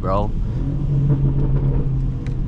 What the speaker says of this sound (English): Damn, those downshifts though.